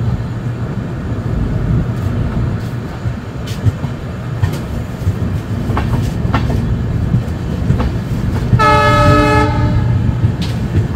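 A Padatik Express train rumbles steadily over crossing lines with clickety-clack rattles, then sounds a loud horn blast for about a second near the end, with no talk.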